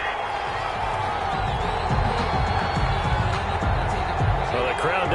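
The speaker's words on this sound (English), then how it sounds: "Well, the crowd doesn't like that." Football stadium crowd booing and jeering angrily after a penalty flag, a loud sustained roar with voices talking over it.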